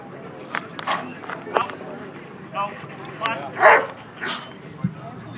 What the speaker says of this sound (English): so Taz will be on his way to get a bite, Tom will call him off